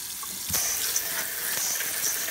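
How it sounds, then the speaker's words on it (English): Tap water runs steadily into a sink as a pound of mussels is rinsed, a close, constant rushing stream with a few soft splashes and clinks. "let's rinse it off now"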